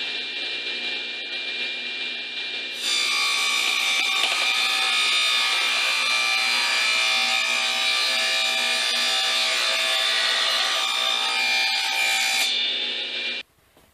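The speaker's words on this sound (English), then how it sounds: "I find it quicker just to use the table saw." A table saw rips through a small piece of wood for a homemade reed project, a loud steady whine running for about ten seconds between quieter motor hum at the start and end, with no talking.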